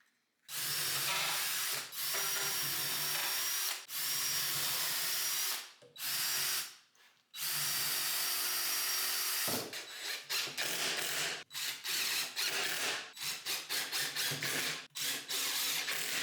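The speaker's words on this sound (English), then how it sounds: "clamp the wood in place before pre-drilling, then screwing from under" A power drill pre-drills and drives screws into clamped wood in repeated bursts of high whirring, with short pauses and a few quick stuttering pulses near the end as screws seat, close and fairly loud.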